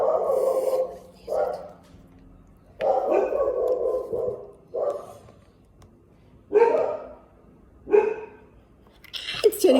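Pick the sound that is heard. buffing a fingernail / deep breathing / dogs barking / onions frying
dogs barking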